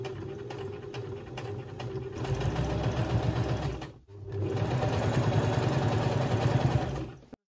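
A sewing machine stitches the waistband seam of a pair of jeans, running in two steady loud bursts with a brief stop of the motor between them and no talking.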